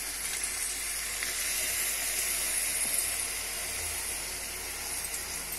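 A tomato mixture goes into a hot pan for a drumstick and tomato curry, giving a steady, broad sizzling hiss that holds even and continuous with no voice over it.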